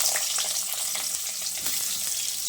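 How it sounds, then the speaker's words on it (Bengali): Eggplant pieces fry in hot oil over a high gas flame, giving a close, continuous crackling sizzle with no talking. "আলুর পরে এবার আমি বেগুনগুলোকে ভেজে নিচ্ছি।"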